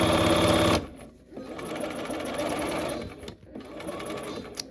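A sewing machine runs in short bursts of rapid stitching, pausing between runs as it stitches forward and then back stitches, close and clear with a faint voice beneath.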